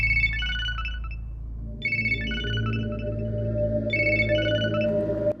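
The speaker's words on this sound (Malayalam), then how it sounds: "റിങ്ങും പോകുന്നുണ്ട്, ആരും എടുക്കുന്നില്ല" A phone rings unanswered in a Malayalam-dubbed action movie scene: three loud electronic ringtone bursts, each around a second and a half long, separated by brief gaps over a low steady hum.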